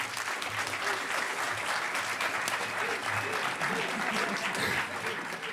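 Steady, dense applause from a large hacker conference audience at a closing ceremony, continuous and fairly distant throughout, with faint crowd murmur underneath.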